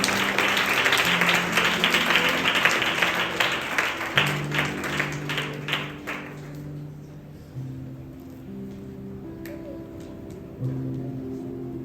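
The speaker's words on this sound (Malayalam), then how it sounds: "നല്ല ഒരു കൈയടിയോടെ ആന്റിയെ നമുക്ക് സ്റ്റേജിലോട്ട് സ്വാഗതം ചെയ്യാം" Audience applause at a farewell gathering as a guest is welcomed to the stage, a dense burst of clapping that thins out after about six seconds while a low sustained musical drone continues underneath.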